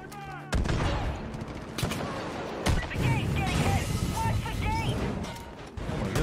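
Heavy gunfire erupts in the Far Cry 5 video game as many enemies shoot at once, with dense overlapping bursts and sharp blasts. It is loud and sustained, with a few game sound effects in the mix.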